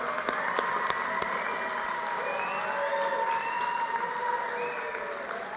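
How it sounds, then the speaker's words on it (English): Steady applause from a large crowd at a high school graduation ceremony fills the space, with faint voices and a few scattered cheers mixed in. "give yourselves and everybody a hand."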